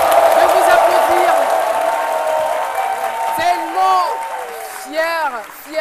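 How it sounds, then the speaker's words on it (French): Studio audience on a live French-language TV show applauding and cheering, loud at first and tapering off, while people talk over it. "c'est le public qui a du mal à s'arrêter de vous applaudir"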